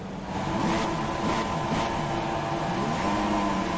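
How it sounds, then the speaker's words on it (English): A racing car engine in a video game holds a steady, close droning rev on the starting grid at Melbourne, with a slight wavering pitch and no speech. "Clutch in. Hold until lights out. Feed in the throttle. Let's build the revs."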